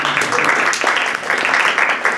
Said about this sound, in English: All right, you may applaud or snap.